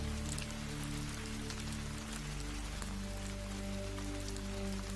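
Steady, heavy rain pours continuously at night in a bamboo grove, a dense hiss of drops with a low droning hum beneath it.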